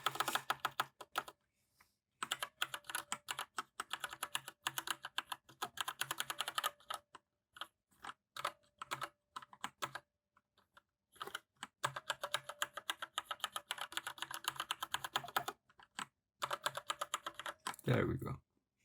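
Rapid bursts of typing on a computer keyboard, close and clear, coming in long runs broken by short pauses, with no talk over the clicking.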